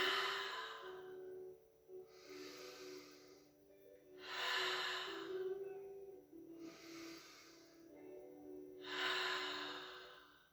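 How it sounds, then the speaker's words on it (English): Slow, deep breaths during a power yoga session, four long airy inhale-exhale swells spaced a couple of seconds apart, close and fairly quiet over a faint steady background tone. "4 deep breaths here."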